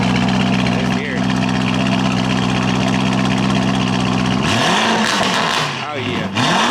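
A vehicle engine idles with a low steady rumble, then gets a blip of gas, rising and falling in pitch through quick revs, close and loud.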